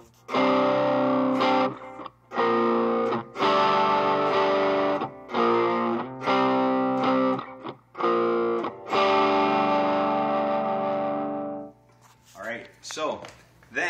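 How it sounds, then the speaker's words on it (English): Electric guitar played through an overdrive stacked with an MXR Distortion Plus pedal, thick sustained distorted chords struck in a series of held blocks with brief gaps, ending in noisy squealing feedback-like tones. "I have it stacked with the MXR Distortion Plus"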